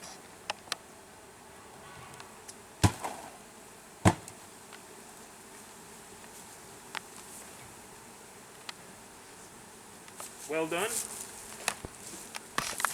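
Honeybees are shaken down into a hive, giving a low continuous buzz broken by sharp knocks and thumps of the frames, with a brief spoken remark near the end.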